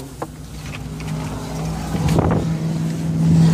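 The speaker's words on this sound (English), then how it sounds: "It's pretty windy today." Strong wind buffets the microphone outside a Suzuki Grand Vitara 4x4 in a low, steady rumble that swells louder toward the end, with a faint engine-like hum beneath it.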